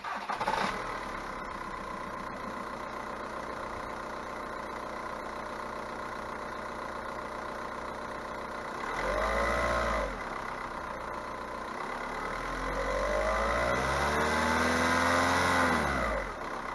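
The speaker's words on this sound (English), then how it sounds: "the engine still runs fine" Mk4 Volkswagen Jetta engine cranks and catches, then settles into a steady idle, with two brief blips of revs later on, close and fairly quiet with no talk.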